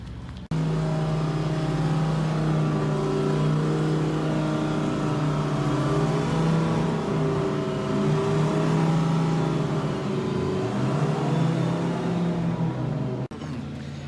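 Race cars lapping the Bathurst 12 Hour circuit, a sustained loud engine drone with shifting revs that rises and falls across the clip before cutting off near the end, no talk over it.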